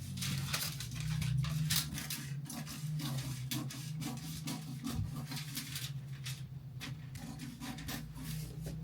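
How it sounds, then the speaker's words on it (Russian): Scissors cut out a paper back pattern piece for a blouse, giving close, repeated snipping and rustling paper sounds under a low steady hum. "Вырезали нашу выкроечку, нашу спинку."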